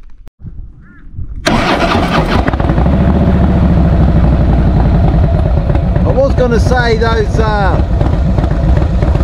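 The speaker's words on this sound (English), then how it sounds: "Freedom exhaust pipes sound like a church pipe organ ready to go into a full fugal." A new motorbike fitted with Freedom exhaust pipes starts up after a brief quiet moment, settling into a loud, deep, steady rumble that runs through the rest of the clip, with a voice speaking over it.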